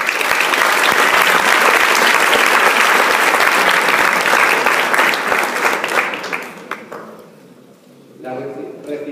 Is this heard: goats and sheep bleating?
no